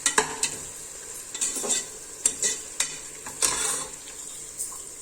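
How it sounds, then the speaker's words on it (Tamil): Onion and tomato sautéing over a medium flame for country-chicken biryani, stirred with a spoon that scrapes and clinks against the pot in irregular bursts over a soft sizzle, no voices. "அடுப்பை நல்லா மீடியம் ஃப்ளேம்லேயே வச்சுக்கோங்க, அப்போ தான் வெங்காயம் தக்காளி வந்து நல்லா வதங்கும்"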